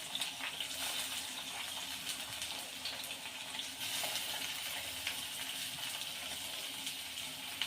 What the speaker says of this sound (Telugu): కొంచెం కరివేపాకు, ఇట్లా వేపుకుందామండి ఉల్లిగడ్డలు ఎర్రేంత వరకు